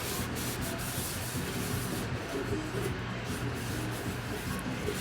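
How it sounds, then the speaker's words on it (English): Rubbing and wiping with Goo Gone cleaner on the outside of a switched-off wax machine pot, a steady close scrubbing swish that runs continuously without pause. "wiping the outsides with the GOO GONE, getting any type of buildup"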